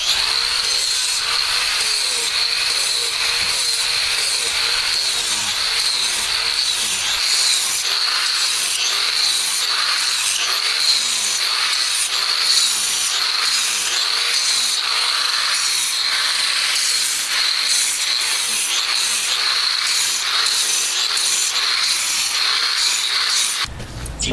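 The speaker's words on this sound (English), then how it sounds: "I'm using a grinder with a diamond blade, and I'm just putting cut marks in the foundation" An angle grinder fitted with a diamond blade cuts score marks into a concrete foundation for stucco work: a loud, steady, close-up rasping whine that runs unbroken for the whole stretch and drops off at the very end.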